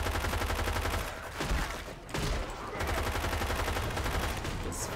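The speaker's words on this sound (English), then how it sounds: "Shoot that zombie in the back!" Rapid gunfire from the zombie shooter game Left 4 Dead 2 chatters continuously at moderate level, with brief lulls and dense bursts of shots throughout.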